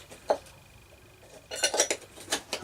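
A metal lid set onto a full pot, first a single sharp clink and then a quick cluster of rattling clatters as it settles, close but moderately quiet.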